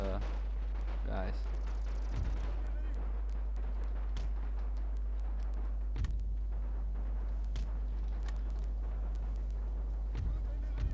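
Scattered gunshots ring out at an artillery crew during a Napoleon Total War battle with the Great War mod. The few sharp reports sit over a constant low rumbling drone, with talking throughout.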